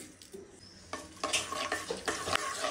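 Hot mustard oil crackles and sizzles up close as bay leaves and whole five-spice drop into the pan, the frying growing louder and busier.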